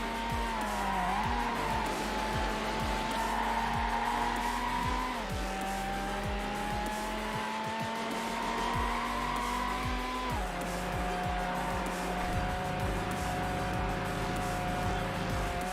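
A Ferrari race car in Need for Speed Hot Pursuit 2 holds a loud, sustained engine whine, with the pitch stepping down at gear shifts and tires squealing briefly along the way.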